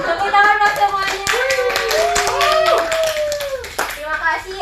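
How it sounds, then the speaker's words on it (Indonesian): Classroom clapping from pupils, a brisk patter of hands joined by excited children's voices calling out over it, moderately loud and close. "Tepuk tangan buat semuanya."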